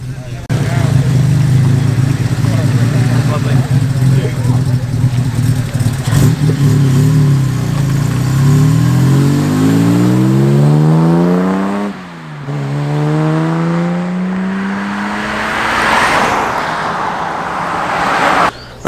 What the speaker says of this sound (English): Now either the Jag XK140 is just moving, or it's leaving us already.